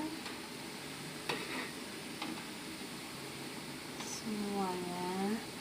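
Water boils and hisses steadily in a steamer set up to cook awug cakes, a constant bubbling, sizzling wash with a few clinks and a brief whistling tone near the end.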